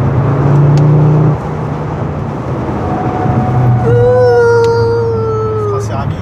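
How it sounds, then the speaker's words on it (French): Hot ceramic brakes on a high-powered car squeal and whine in drawn-out tonal notes that shift in pitch, over a rumbling engine and road noise, with people talking in the background. "Les freins céramiques qui commencent à faire du bruit comme ils sont chauds."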